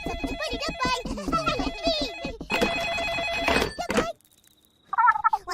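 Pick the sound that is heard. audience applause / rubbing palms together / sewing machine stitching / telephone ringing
telephone ringing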